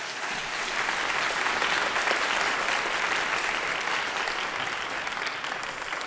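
A church congregation applauds steadily during an ordination thanksgiving service, a sustained, even wash of many hands clapping close by with no pauses.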